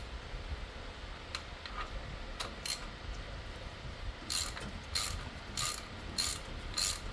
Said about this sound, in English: Get my ratchet on there.